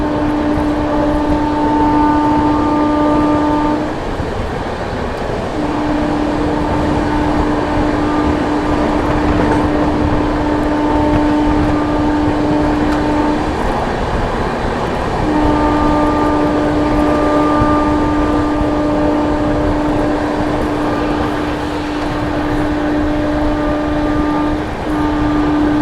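Bihar Sampark Kranti Express running at slow speed on the New Delhi–Darbhanga line, a steady loud rumble of wheels and carriages with long sustained horn tones sounding repeatedly, cutting out briefly twice.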